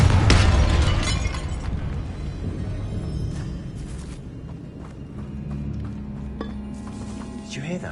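A Confringo spell from Hogwarts Legacy bursts with a loud, close blast at the start, then a rumbling, crackling tail that fades into a low, eerie tomb ambience with scattered smaller impacts.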